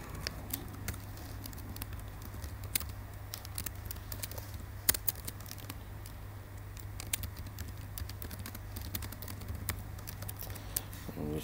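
Quiet, rapid clicking of a computer keyboard as code is typed, irregular bursts of keystrokes with one sharper tap, over a low steady hum.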